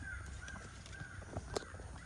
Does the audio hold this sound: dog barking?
no